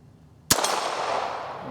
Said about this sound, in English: I'm going to be shooting at that big target first.